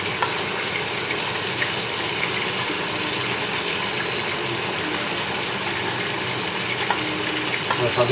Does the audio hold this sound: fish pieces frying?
yes